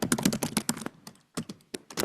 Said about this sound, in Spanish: Alguien está peleando con el teclado.